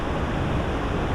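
A mountain waterfall in Idaho swollen with snowmelt and rain, heard as a loud, constant broadband rush of falling water with no pauses.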